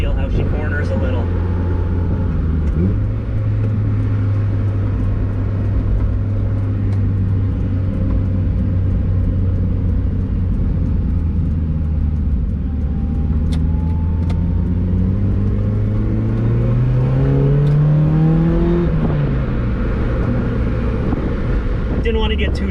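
1999 Mazda Miata driving through a roundabout on traffic-filled city streets: steady engine drone from inside the car that rises in pitch as the car accelerates out of the turn, while someone talks over it.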